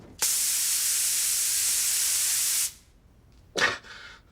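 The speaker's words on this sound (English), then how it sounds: "So it's literally just spraying them with, I'm guessing, disinfectant." A spray bottle of disinfectant gives one long, loud, steady hiss of about two and a half seconds, followed a second later by a shorter, sharp spritz.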